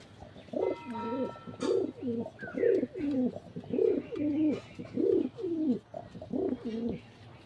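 Pigeon cooing close by in a steady series of rhythmic, throaty coos, about eight in a row, with no talking.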